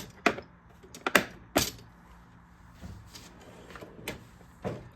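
A drawer on a Husky/Craftsman 52-inch metal tool box in a home garage opens with a few sharp clacks and rattles, then softer scattered knocks, all close by and fairly quiet.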